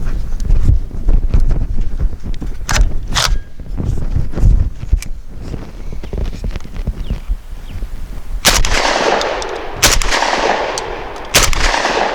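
SDS Imports Lynx 12 12-gauge shotgun firing Fiocchi 1 ounce 6 shot loads at 1250 feet per second, a series of loud sharp reports outdoors with wind noise, the last few blasts spaced apart.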